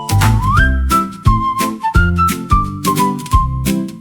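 Melodic whistling in an AI-generated song, a bright sliding whistled tune carried in phrases over a strong rhythmic backing track, loud and upfront.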